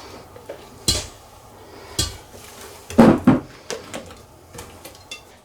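A spoon clinks against a bowl while cheesecake cheese mixture is stirred with chopped nuts, a series of sharp scattered taps and scrapes with quiet pauses between them.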